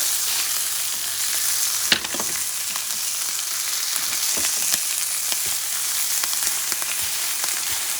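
Bison bacon sizzles steadily in a cast iron pan, a continuous bright frying hiss with occasional pops and a scrape or clink, no voices.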